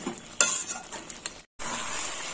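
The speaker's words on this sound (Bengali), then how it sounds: "কষতে কষতে জলটা শুকিয়ে যাবে।" Chicken for Kashmiri chicken is stir-fried in a pan until its water dries off: close, crackling sizzle with a few sharp spoon scrapes and strokes, a brief silent gap, then the sizzle returns without any talk.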